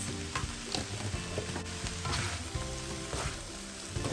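Cold rice with vegetables, egg and garden chili being stir-fried in a hot pan, a steady close sizzle with scraping and clinking of the spatula as it is stirred, no one speaking.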